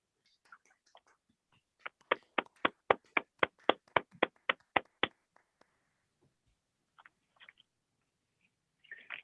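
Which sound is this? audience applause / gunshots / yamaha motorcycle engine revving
audience applause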